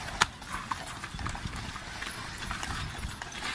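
Steady clip-clop of horse hooves on pavement in Egypt, a continuous walking rhythm, moderately close, with faint background bustle.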